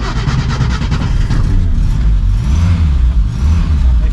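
Engine of a 1969 FIAT 500L or SEAT 600 D vintage four-cylinder car running steadily after starting, a loud, close, continuous rumble with some revving swells and no voices over it.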